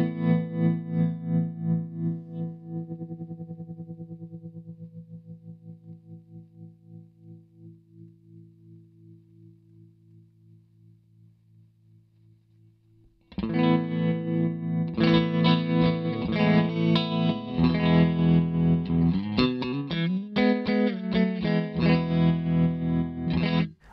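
Electric guitar played through a tap-tempo tremolo pedal with reverb switched off: a sustained chord pulses rhythmically and fades out, then a loud strummed passage throbs with steady tremolo.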